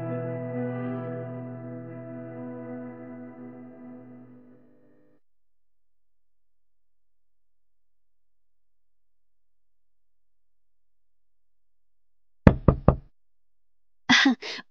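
Cartoon door-knock effect from an animated fairy-tale film: after fading tonal music and a long silence, two short bursts of rapid, crisp knocks ring out close and loud.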